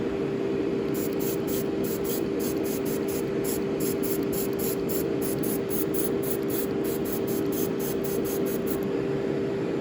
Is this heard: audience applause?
no